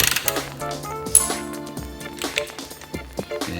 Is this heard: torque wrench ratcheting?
yes